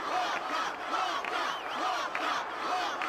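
Stadium crowd roaring and chanting at a Blitzball match in the Final Fantasy X game, a dense, sustained wall of voices with rising and falling swells, loud and continuous with no talk over it.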